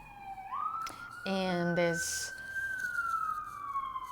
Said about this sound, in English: as the siren is passing by